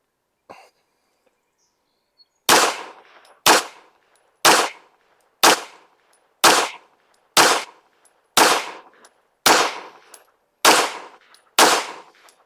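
A rifle fitted with a Gideon Optics Mediator scope fires about ten loud, sharp shots at roughly one-second intervals, each followed by a short decay, with a faint click before the volley.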